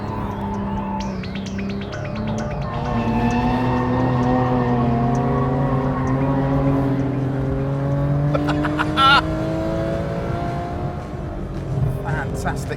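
A Singer-modified Porsche 911 sports car drives past at speed, its engine note swelling and climbing through a long, loud rising rev before easing off, with a brief sharp crackle near the end.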